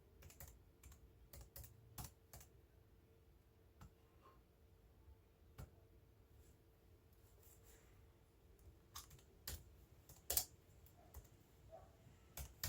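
Someone types on a computer keyboard in quiet room tone, with irregular key clicks and a few louder, sharper strikes, heard close and alone.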